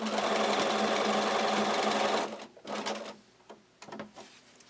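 A sewing machine stitches a ruffled tag blanket in a steady, dense run for about two seconds, then stops, followed by a few short bursts and quiet handling sounds close by.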